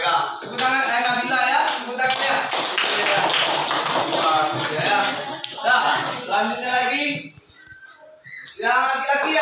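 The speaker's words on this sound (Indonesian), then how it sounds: "Tepuk tangannya." Children in a primary school classroom clap their hands in a quick, uneven burst, with an adult voice speaking alongside and a brief lull before clapping resumes.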